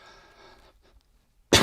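A single sharp cough bursts out near the end, loud and close, after a stretch of quiet low rumble and a faint earlier breath.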